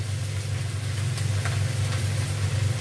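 A steady, quiet sizzle of vegetable curry frying with masala in a pan, a continuous low hiss over a faint hum, with no talk.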